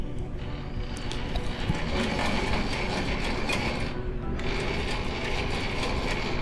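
Mechanical ratcheting and gear clatter from an SCM class ti 120 tilting spindle shaper with a 1.25 inch spindle, tilting up to 45 degrees, a continuous close, fairly loud grinding mechanism over about six seconds with no talk.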